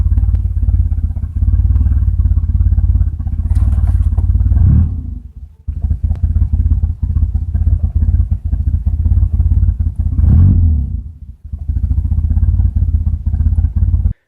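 A Nissan KA24e car engine idling with a fault runs as a loud, steady, rough rumble for most of the stretch, dropping away briefly twice as if nearly stalling, then picking back up.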